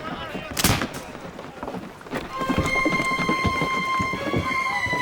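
Heavy cannon fire from a warship in a naval battle, a deep booming blast early on, then a second boom followed by a sustained roaring, ringing din.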